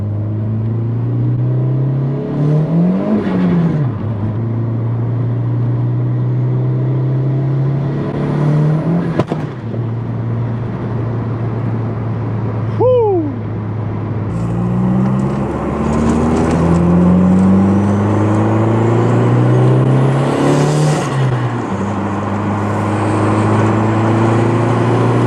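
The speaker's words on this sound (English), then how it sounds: "Let's take it out for a drive and see how it does." A turbocharged car pulls away and accelerates close by, its engine note rising and falling through repeated gear pulls, with a brief whistle-like rise midway.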